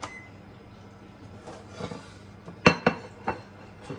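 Plates and dishes are shifted on a table during cheesecake baking, giving a few sharp ceramic clinks and knocks near the end over a quiet room background.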